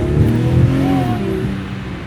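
BMW X3 M40 engine revving loudly up close during a test lap, a steady powerful drone with rising and falling pitch throughout.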